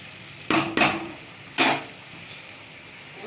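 Potatoes being stirred into a yogurt spice paste of chili, turmeric and salt in a pan, with three distinct close scraping strokes of a spoon against the pan, and quiet between them.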